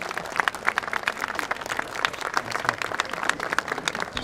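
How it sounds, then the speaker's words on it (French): An audience at a parents' gathering applauding loudly, many individual claps forming a lively, uneven patter that carries on steadily with no talk over it. "je crois qu'on peut l'applaudir très fort"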